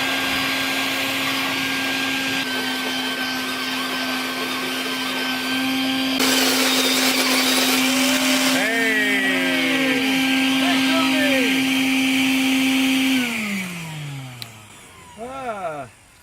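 A worn Black & Decker angle grinder whines loudly and roughly with a gritty rattle, holding a steady drone before spinning down, with a voice talking over the end.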